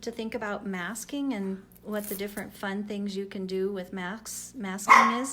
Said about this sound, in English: She always knows right when to bark and be naughty.